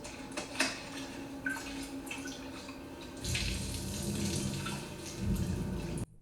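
Water runs from a tap and pours into a sink, starting with some clinks and splashes, then a fuller steady stream before it cuts off.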